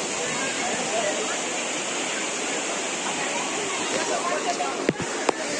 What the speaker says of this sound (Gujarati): સામે ધોધ પડ્યો છે પાણી મસ્ત આવે છે